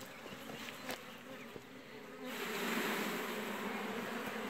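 Dense buzzing of many honey bees close by at a hive, a steady droning swarm that swells louder midway through.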